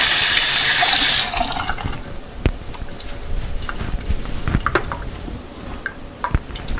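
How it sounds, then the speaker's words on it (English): Tap water gushes loudly for about a second, then quieter splashing, rubbing and squishing follow as hands are washed at a kitchen sink, close up with occasional small knocks. "Wash my hands."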